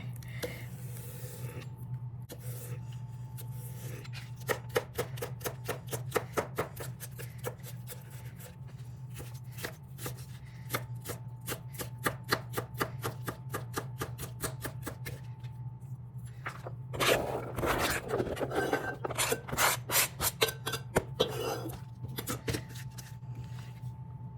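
Celery and carrots chopped on a cutting board for a slow cooker dinner, a long run of quick, crisp knife strikes in steady bursts with short pauses, fairly close over a low hum.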